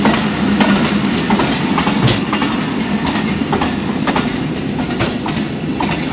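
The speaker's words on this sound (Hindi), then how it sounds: "पेशावर से कराची और कराची से पेशावर चलती अवाम एक्सप्रेस।" The Awam Express passenger train runs on rails with a steady rumble and a repeated clickety-clack of wheels over rail joints, loud and close throughout, with no voices.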